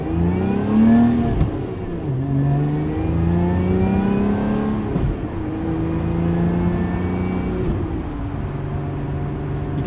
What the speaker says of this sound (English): You can shift this car pretty fast.